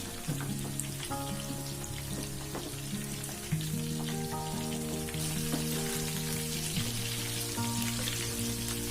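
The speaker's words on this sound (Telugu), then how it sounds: "డీప్ ఫ్రై కదండి, మొత్తం గోల్డెన్ బ్రౌన్ కలర్ వచ్చే వరకు చికెన్ పీసెస్ అన్ని సైడ్లో చక్కగా ఫ్రై అయ్యే వరకు మనం ఫ్రై చేసుకోవాలి." Chicken pieces deep frying in oil over low heat until golden brown give off a steady, even sizzle with soft crackles, heard alongside gentle background music.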